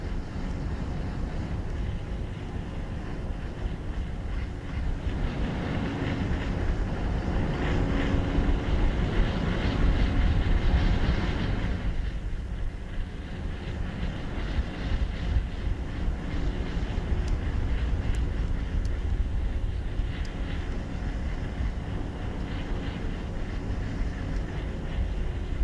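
Astra rocket engines during launch ascent on the TROPICS-1 mission: a continuous distant roar with broadband rumble that swells and then steadies, heard alone.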